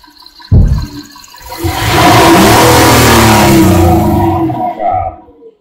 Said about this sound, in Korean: 악셀 페달을 다시 한번 밟으세요.